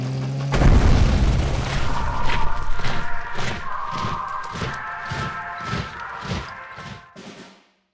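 Tank destroyed in the card game KARDS: a loud opening boom followed by a steady series of about nine heavy, rhythmic thuds and blasts that fade out near the end.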